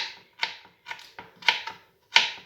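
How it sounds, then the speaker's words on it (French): A knife chops garlic into small pieces on a board, a series of crisp, close taps in short irregular bursts with brief pauses between them, quiet and without speech. "également couper l'ail hein,"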